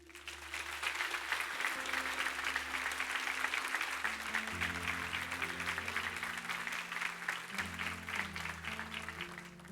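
Congregation applauding in church, sustained even clapping from many hands lasting the whole stretch, with soft sustained organ or keyboard chords underneath.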